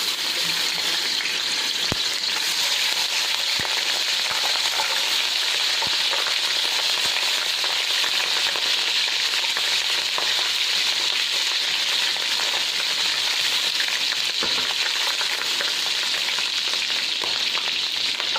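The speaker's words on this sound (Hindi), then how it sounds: "अब इसमें लहसुन अदरक का पेस्ट डालेंगे" Steady, close sizzling of garlic ginger paste frying in a cup of hot oil, a continuous crackling hiss with occasional pops and no talking.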